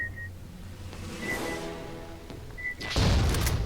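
Grenade launcher fire in AVP Classic Redux: a muffled launch thump is followed by a sharp, louder blast near the end, with beeping game sounds and ambient rumble in between.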